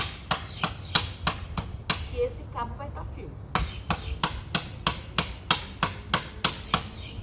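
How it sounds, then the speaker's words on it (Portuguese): Hammer blows tapping a tool handle tight into its head, a steady series of sharp, close knocks with a pause in the middle where a person speaks, then more evenly spaced strikes. "Eu vou batendo com o martelo até sentir a hora"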